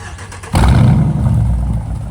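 A straight-piped Hemi V8 Jeep Grand Cherokee with the muffler deleted fires up abruptly into a loud, deep, rumbling exhaust that holds steady close up.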